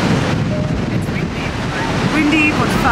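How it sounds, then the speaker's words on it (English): Strong wind buffets the microphone over surf washing on the Irish shore, a loud steady roar with faint voices in the background. "It's windy"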